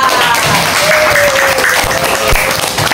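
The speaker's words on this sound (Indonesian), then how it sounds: "Kita beri tepuk tangan untuk kita." Loud, close applause for students after a class group presentation, a dense, steady clapping from the room lasting about three seconds.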